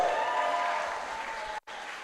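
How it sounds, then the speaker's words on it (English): Steady, loud applause from wedding guests cheering for the maid of honor, a dense crowd clapping continuously before cutting off abruptly near the end. "keep that applause going"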